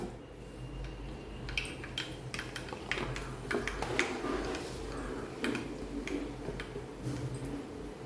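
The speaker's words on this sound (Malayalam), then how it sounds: "കടുകൊന്ന് പൊട്ടി വരുന്നുണ്ട്" Sharp, irregular pops and crackles of mustard seeds in hot sesame oil, scattered through a steady low hum, some pops close and loud, others faint.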